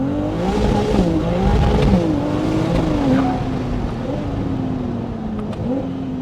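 A Ferrari engine holds a loud, close, throaty drone at mid revs, pitch swelling and dipping in short surges as it accelerates, steady and continuous with no talk.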